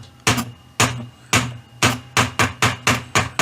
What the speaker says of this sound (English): I'm just going to tap it a little bit on the top.